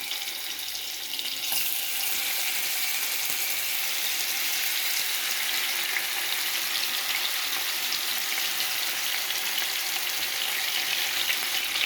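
Oil sizzles steadily in a pan while a pepper quail curry is being cooked, a constant close frying hiss that runs alone throughout.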